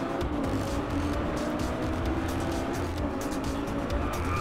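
A car engine roars continuously in a racing video game as the car drifts through corners, a steady loud motor drone with rising and falling revs.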